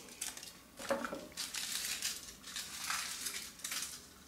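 Foil and plastic crinkle and crackle in bursts as a Chupa Chups Peppa Pig chocolate surprise ball is unwrapped and opened, close and fairly soft with no talking.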